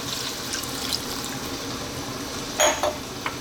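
Warm water pours into a pot of chicken stew as a steady wash of liquid, followed near the end by a brief louder splash and clatter.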